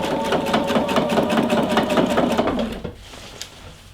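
A sewing machine stitches along a denim jeans hem in a fast, steady run of close, loud stitches, then stops abruptly and leaves near silence.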